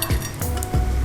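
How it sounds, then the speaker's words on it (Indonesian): Martabak made with lumpia wrappers fries in hot oil, a steady sizzle broken by a few short clinks of a utensil against the pan, close up with no talking. "karena semuanya serba langsung goreng"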